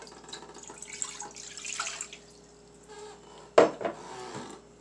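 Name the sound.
water poured into a pot of rice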